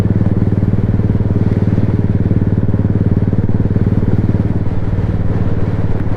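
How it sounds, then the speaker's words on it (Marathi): Motorcycles racing at full speed on a morning ride in the Sahyadri hills, a loud, steady, close engine drone with rapid pulsing throb and heavy wind buffeting throughout. "आणि दादा रेस लावतायत आमच्याबरोबर फुल स्पीडमध्ये चाललेत"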